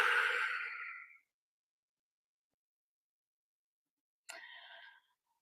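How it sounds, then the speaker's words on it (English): A long, breathy exhale through the mouth during a guided deep-breathing exercise, close and soft, fading over about a second. After a pause of silence, a second shorter breath follows. "Long exhale through your mouth."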